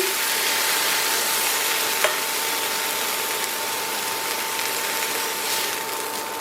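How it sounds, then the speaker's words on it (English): Salmon fillets searing in a hot pan give a steady, even sizzling hiss throughout, with one brief sharp click partway through and no voices. "I've also turned them over on the sides and I've seared them. So I'm going to do the same to this one."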